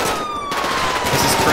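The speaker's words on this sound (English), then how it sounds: "SO7 arriving on scene, multiple people shooting." Multiple shooters fire guns in GTA 5 FiveM, a dense, loud continuous burst of overlapping gunfire up close, with a siren tone faintly running beneath it.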